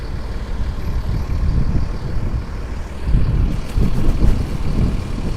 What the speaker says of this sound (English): It is very windy, friends.